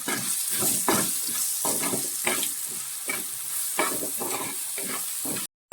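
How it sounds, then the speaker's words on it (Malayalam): Chopped onions sautéing in a pan for prawn roast: a steady, close sizzle with repeated scraping stir strokes at a regular rhythm. "അങ്ങനെ അത് നന്നായിട്ട് ഗോൾഡൻ ബ്രൗൺ ആവുന്നത് വരെ നമ്മളിത് വഴറ്റണം"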